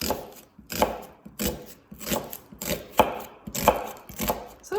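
A knife chops through a vegetable on a cutting board while prepping minestrone, giving about eight crisp, evenly spaced cuts close to the listener, each a short knock with no talk over it.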